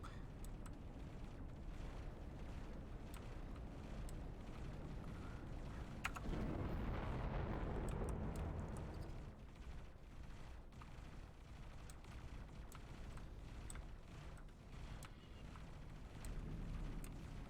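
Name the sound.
pulse turrets firing at fighters in video game X4: Foundations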